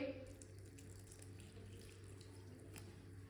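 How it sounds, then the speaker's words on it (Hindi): Faint, steady trickle of water poured into a bowl of egg, chopped chilli and seasoning for a paratha mixture, with a low background hum throughout. "थोड़ा सा पानी डाल लेंगे"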